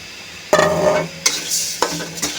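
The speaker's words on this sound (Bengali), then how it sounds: "ডালের সাথে মশলাটা কষিয়ে নিচ্ছি।" A spatula stir-fries spices with fried mung lentils in a pan for a rohu fish-head curry. Three or four sharp scraping bursts ring against the metal over a soft sizzle, close and loud, with no voices.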